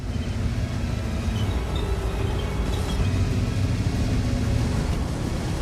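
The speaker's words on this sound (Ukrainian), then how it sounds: "З новими ефектами двигунів і гусениць машини звучать по-різному." A steady, dense low rumble of a heavy tank engine with grinding track noise in World of Tanks, continuous and fairly close throughout.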